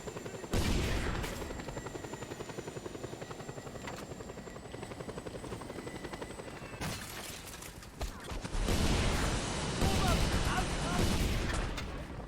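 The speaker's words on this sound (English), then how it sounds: "And now Air Force chopper arriving" An Air Force helicopter arrives in a video game, its rotor chop a steady, loud drone that swells near the end, mixed with bursts of distant gunfire.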